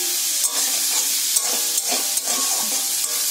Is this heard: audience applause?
no